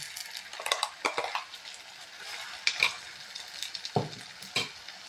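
Onion, green chili and ground masala stirring and frying in a pan, with soft sizzling under repeated scrapes and clinks of a spoon against the metal, no voices.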